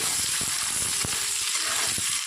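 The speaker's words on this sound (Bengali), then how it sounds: "তো আমি ভেজে নিচ্ছি পেঁয়াজটা" Two large chopped onions frying in hot oil, a steady loud sizzle with faint crackles and occasional stirring taps, no voices.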